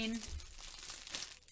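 Plastic bag wrapping around a diamond painting kit crinkles and rustles through an unboxing in a cramped space, a continuous close crumpling with a brighter burst near the end.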